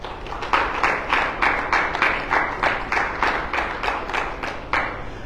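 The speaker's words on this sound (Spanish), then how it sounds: "Denle un aplauso fuerte a eso" Loud, rhythmic clapping from a church congregation during a Sunday service, steady hand claps repeating roughly every third of a second for several seconds, close and dense, with no talking over it.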